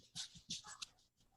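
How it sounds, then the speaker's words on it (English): A dog indoors makes a few quiet, short whimpering and snuffling noises in quick irregular bursts, faint and close, with no speech over them. "Sorry, my dog's inside now."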